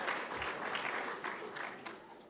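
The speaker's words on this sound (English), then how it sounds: "give him a round of applause as well" An audience at a Pro Football Hall of Fame event applauds in a brief, fairly faint burst of clapping that gradually tapers, with no talking over it.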